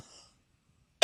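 A woman's single sharp cough bursts out abruptly at the very end, after near silence.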